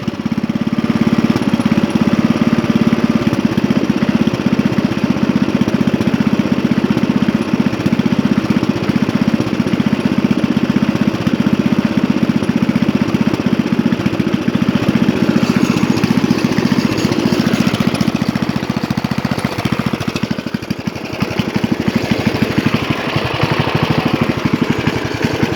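A 1983 Briggs & Stratton 8hp Sno-Gard winter engine runs at mid-range, a loud, continuous, close chugging drone that holds steady with a brief dip in intensity near the end.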